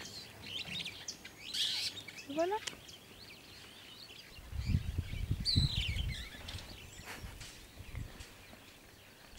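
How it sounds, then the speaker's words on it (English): Bright blue and orange birds in a tree at a camp entrance in Kenya, giving scattered chirps and tweets at moderate distance, with someone speaking briefly and some rustling and footsteps nearby. "If you look at the tree right here, you have beautiful birds."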